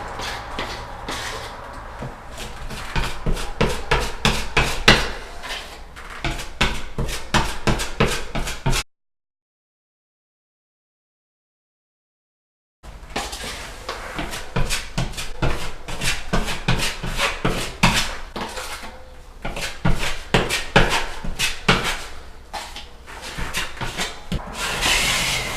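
A filling knife spreads filler compound into holes in plasterboard with repeated rhythmic scraping strokes, close and fairly loud, broken by a few seconds of total silence before the scraping resumes.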